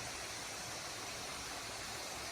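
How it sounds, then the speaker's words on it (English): Waterfall at Gozalandia in Puerto Rico, a steady, dense roar of falling water that fills the whole clip at a constant level with no voices. "Back to the original waterfall."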